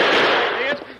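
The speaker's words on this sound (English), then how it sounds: "Never saw such shooting in all my life." A gunshot in an old radio western drama, one loud sharp crack with a short decaying tail, alone and close.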